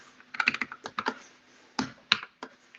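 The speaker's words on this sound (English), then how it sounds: "the W on my keyboard is a bit slow" Computer keyboard typing in a design workshop, a run of close, crisp keystrokes in irregular bursts with short pauses, with no talking.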